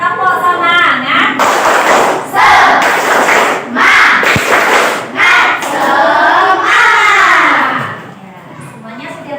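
Classroom of children doing a rhythmic spirit-clap cheer, tepuk semangat, with bursts of group clapping alternating with loud chanted voices in a steady patterned rhythm, close and energetic.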